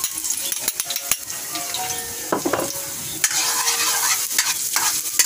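Garlic sautéing in a pan for miso sinigang with pompano, a soft sizzle broken by scraping stirs and metal utensil clinks against the pan, close and alone.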